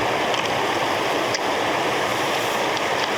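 Strong river current rushing beside a riverside campsite near Baler, flowing as a dense, steady roar that stays close and loud the whole time, with no talking.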